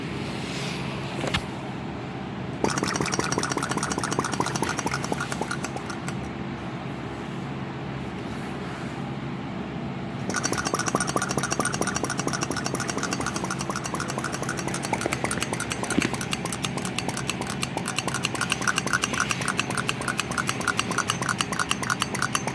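A rebuilt flame licker engine with a steel cylinder runs steadily, giving a close, continuous rapid chugging and mechanical clatter throughout, with no talking.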